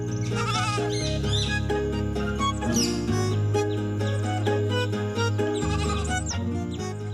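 A little lamb bleats in a children's animated story, with wavering cries rising over sustained music-like tones that shift every second or so.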